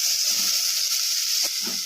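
Chopped tomato hits hot oil in a pan where curry leaves are already cooking, and a loud, steady sizzle follows. It continues unbroken with soft stirring scrapes near the end.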